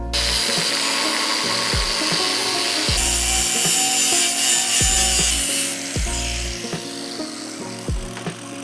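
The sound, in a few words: cutting a steel rock slider tube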